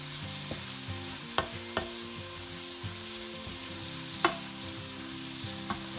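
Fresh small shrimp with onion sauté in hot oil with masala, sizzling steadily while a utensil scrapes and clicks against the pan in a few sharp strokes, close and fairly quiet, with no talking.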